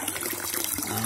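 Water flows out of a DIY vacuum tube solar pool heater in a steady, close splashing rush with no voices over it.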